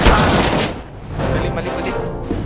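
Gunfire in a Counter-Strike: GO match, with a loud sniper rifle shot at the start and further shot bursts later, all heard under excited talk from a player.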